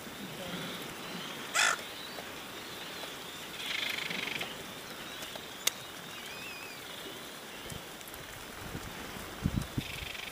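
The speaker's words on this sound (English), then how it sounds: "Watch those birds." Birds calling on Heron Island, with a few short crow-like caws rising sharply out of a steady outdoor hiss, spaced irregularly and fairly distant.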